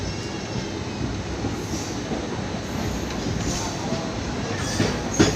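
The Hyderabad Super Fast Express, running from Chennai Central to Hyderabad Deccan, rumbles past nearby with a steady roar of rolling wagons, wheel clatter and occasional squeal, loud and continuous throughout.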